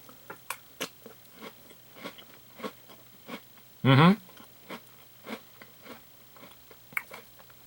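Crunchy Superman caramel cereal eaten by the spoonful: close, rhythmic crunching bites repeat every half second or so, with one brief louder burst of voice in the middle.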